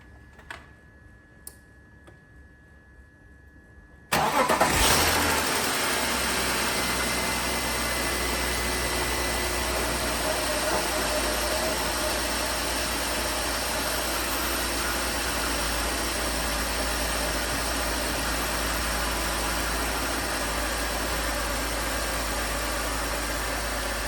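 Quiet ticking gives way to a BMW E46 with a swapped-in M54 engine cranking and catching on a hot start, then settling into a steady, close idle with a faint tick.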